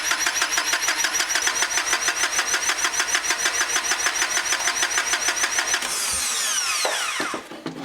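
A car engine cranks over on its starter during a battery capacity test, a loud, fast, even rhythmic whirring chug held for several seconds before the starter winds down and stops.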